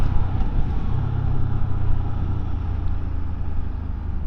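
An MBP C1002V motorcycle engine revs up to the top of its range during a ride, a loud steady drone with wind rush throughout.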